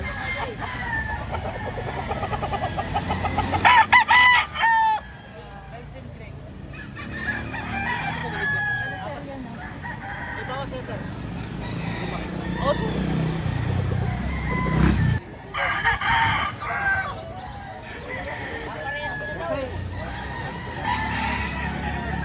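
Roosters crow and chickens cluck among caged fowl at a market in Lipa, Batangas. Several loud crows rise over steady clucking and background bustle, with people talking nearby.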